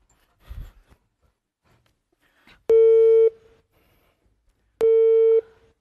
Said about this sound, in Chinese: 我现在打电话给王美丽，我开着免提行不行？